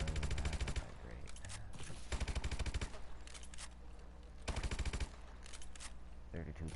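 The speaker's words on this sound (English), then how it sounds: "The favored MP40. Very accurate weapon." MP40 submachine gun firing in a video game, several rapid full-auto bursts with pauses between them, loud and close, with game sounds in the gaps.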